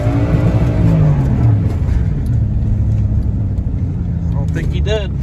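A car in motion, a steady close engine rumble and road roar that runs throughout under someone talking, with a brief higher whine near the end.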